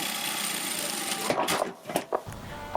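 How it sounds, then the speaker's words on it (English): A sewing machine runs a straight stitch along the edge of a fabric zipper handle, first as a steady whirring burst, then in short stop-start runs with small mechanical clicks. "Sew a straight stitch along the edge."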